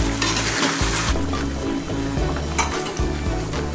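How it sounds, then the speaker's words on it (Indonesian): Chicken pieces frying in spice paste for opor ayam while being stirred in a pan, a close, steady sizzle with repeated scraping and clinking of the utensil against the cookware, no talk. "Terus kita aduk kembali sampai ayamnya terendam sama bumbu semua."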